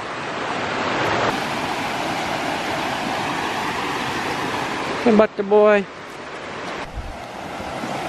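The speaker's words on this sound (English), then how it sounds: "you've seen this creek before, but not running like this" Steady rushing water of a fast-flowing creek swollen by heavy rain fills the scene, with a brief spoken call and a short high vocal sound breaking through midway.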